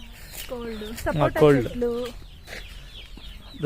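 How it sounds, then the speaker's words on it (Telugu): Chickens cluck and squawk in a short burst, fairly close, with some faint background noise around them. "కోళ్ళు చూడండి."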